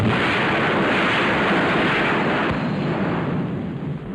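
Naval gun turrets firing in a sea battle come through as a dense, continuous roar of artillery, loud and steady across the whole stretch, fading slightly at the very end, with no voices.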